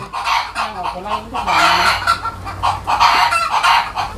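Chickens clucking in a busy, overlapping chorus, with a few louder squawks rising and falling throughout.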